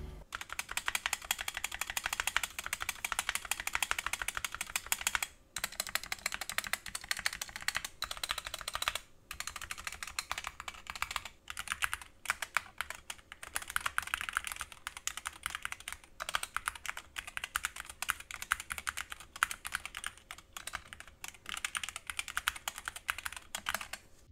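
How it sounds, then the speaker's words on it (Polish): Rapid typing on a SteelSeries Apex Pro Mini mechanical keyboard, dense close clacking keystrokes in continuous runs with a few brief pauses, heard alone. "zostawiam Was sam na sam z brzmieniem klawiatury"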